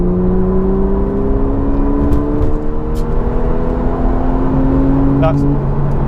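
A Porsche 911 in sport mode pulls hard, its engine note rising steadily in pitch as it accelerates, a loud continuous drone with a couple of faint clicks over the top.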